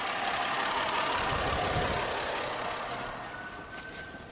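A car engine idles steadily with a smooth, even hum, close by and alone, easing slightly quieter toward the end.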